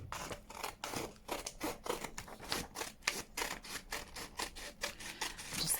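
Scissors cut through paper while an envelope folio journal is being made, a close, rapid run of crisp snipping strokes with no talking.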